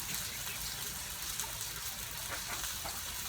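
Tap water gushes steadily over celery being rinsed for a crockpot roast, a constant close rush of running water with no talk.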